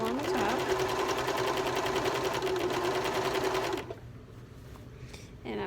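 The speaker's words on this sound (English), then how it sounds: "So we're just going to stitch right along the top." A cover stitch machine hems a pair of pants, humming loudly and steadily for several seconds before stopping abruptly, leaving only faint handling noise.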